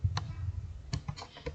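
Keys click on a computer keyboard, a few sharp taps with one press of enter among them, close and quiet with no talk.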